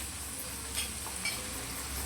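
Onions sautéing in a pan for a crab masala, a steady soft sizzle throughout with a couple of faint stirring scrapes, fairly quiet and with no voices.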